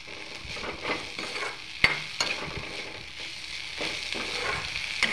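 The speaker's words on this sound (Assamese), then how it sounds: "একদম পূৰা ল' ফ্লেম দি ভাজি আছোঁ" Dried small fish frying in a pan over a very low flame, giving a steady soft sizzle with occasional stirring scrapes and a couple of sharp clicks, close and unaccompanied by talk.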